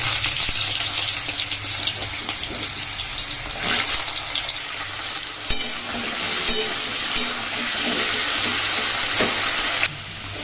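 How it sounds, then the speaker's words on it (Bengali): Potatoes fry in hot oil in a wok, giving a steady close sizzle throughout, with a few brief clinks and stirring scrapes breaking through. "এখন হচ্ছে আলুটা ভেজে নেব।"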